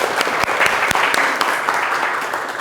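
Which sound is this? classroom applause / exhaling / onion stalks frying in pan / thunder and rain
classroom applause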